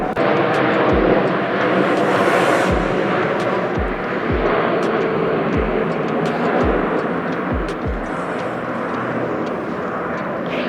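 An airplane passes overhead outdoors in Toronto on a clear day, its loud, steady engine roar filling the scene, with repeated low thumps scattered throughout and no talking.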